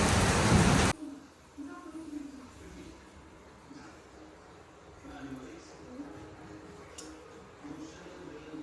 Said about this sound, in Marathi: लाईट गेली आहे, पाऊस पडतो आहे.